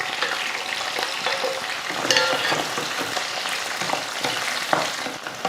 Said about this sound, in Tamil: வெண்டைக்காயும் இந்த வெங்காயத்து கூடயே சேர்த்து நல்லா வதக்கி விட்டுட்டு